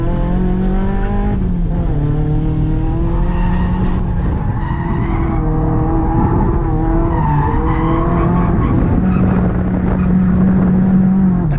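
Drift car skidding hard on a high-speed track, a loud sustained tire squeal with engine roar rising and falling in pitch, continuous and close throughout.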